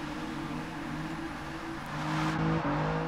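A Rolls Royce Wraith in Forza Motorsport 6 holds a steady, loud engine drone while its tires spin, the pitch jumping upward near the end as it revs harder.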